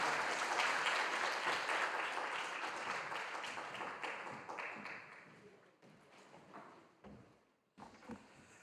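Congregation applauding in a church during a Friday prayer service, welcoming a pastor to the pulpit; dense, sustained clapping fills the room at first, then thins and fades toward the end with scattered claps.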